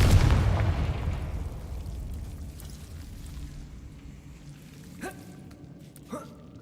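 Confringo blasting spell explosion in the Hogwarts Legacy video game: a loud booming burst that rolls off into a long fading rumble, followed by two small pops.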